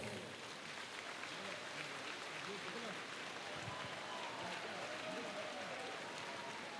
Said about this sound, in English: Can everybody please give them a round of applause?